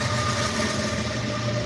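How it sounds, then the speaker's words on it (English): A train rumbles past steadily with a low droning engine and faint rhythmic rail clatter, loud and continuous. "I am, and then a train drove by."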